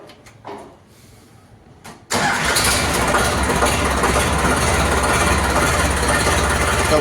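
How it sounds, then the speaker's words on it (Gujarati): An Eicher 551 tractor diesel engine cranks and catches after a couple of seconds of quiet with small clicks, then settles into a loud, steady close-up idle rumble. "હવે ચેક કરીએ આપણે ટ્રેક્ટરનું સ્ટાર્ટિંગ કેવું સ્ટાર્ટિંગ છે"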